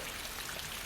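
Rain falls steadily at night on an uphill boardwalk-area street, a soft continuous hiss of drops pattering on the surface with no voices, short and even throughout.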